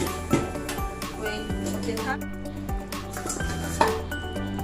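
A lid is placed on a cooking pot of shukto, a Bengali mixed-vegetable dish, with light metallic clinks and a clink or two of cookware over a steady background hum.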